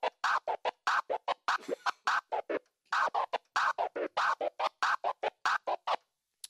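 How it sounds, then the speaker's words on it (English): A DJ scratches a record on a turntable in a 1-4-2 back transform pattern without the tear, producing a fast chopped series of short rubbery bursts cut in tight rhythmic groups, close and dry with no voice. "if I do this 1-4-2 back transform pattern without the tear, it sounds like this"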